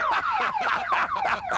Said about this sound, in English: Hammond's cheap aftermarket alarm matched his cheap aftermarket wheels.